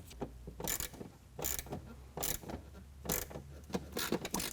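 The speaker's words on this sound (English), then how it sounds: "tighten it down with a 7mm as we're bearing down on the fender flare to give some tension on that flare" A 7mm wrench ratchets a screw tight on a fender flare of a 2021 Ford F-150, giving repeated short bursts of clicking and grinding in an uneven rhythm, close but fairly quiet.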